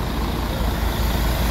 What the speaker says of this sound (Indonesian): berangkat lagi nih bus Intra SE21 ya